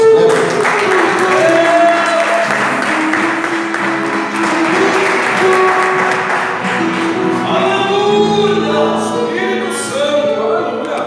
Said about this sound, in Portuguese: Vamos receber o pastor Adalberto aplaudindo a Jesus bem forte.